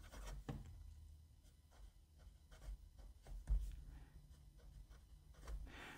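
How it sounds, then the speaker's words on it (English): A Jinhao x159 fountain pen with a steel nib writes on paper, making quiet, close scratchy strokes in short repeated bursts, with a soft thump partway through and no voices. "This pen writes nicely"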